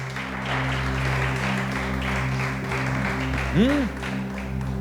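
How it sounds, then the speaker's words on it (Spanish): Church congregation applauding during a Spanish-language sermon, a moderate wash of clapping over sustained organ or keyboard chords, with a brief sliding tone rising and falling near the end. "Dale ese aplauso a nuestro amado Rey."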